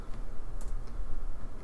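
Computer mouse and keyboard clicks while selecting a theta symbol in math software, a few soft, quick taps close by over a steady background hum.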